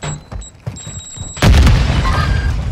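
A Semtex grenade explodes in Warzone with a single loud, deep boom that rumbles on after a few quieter clicks and thumps, followed by sustained blast noise.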